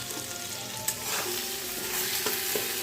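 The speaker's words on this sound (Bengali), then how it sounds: "এবার এই মশলাগুলো দিয়ে ভালো করে কষিয়ে নেব আলুটাকে" Potatoes frying in a pan with ginger paste and cumin powder for a Bengali vegetarian jackfruit curry, a steady close sizzle punctuated by a few spatula scrapes as the mixture is stirred.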